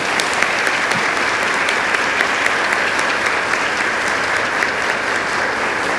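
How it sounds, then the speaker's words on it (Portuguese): An audience at a UN CSW70 conference gives sustained applause, dense even clapping that stays loud and steady for six seconds with no talk. "Muito obrigado por puxarem um aplauso."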